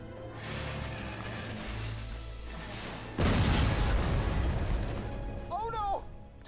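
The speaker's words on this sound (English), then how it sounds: "Did my sand skiff just randomly explode" Sand skiff hover vehicle in Borderlands 2, a steady mechanical hum that suddenly gives way to a loud explosion with a crackling, rumbling tail, while a game character's voice talks over it.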